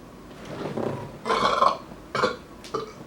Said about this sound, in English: I can't help the fact that I burp a lot